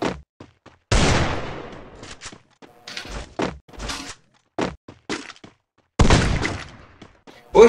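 Sharp, punchy gunshots from a video game fire in scattered bursts, some single cracks and some rapid clusters, separated by short gaps of near silence.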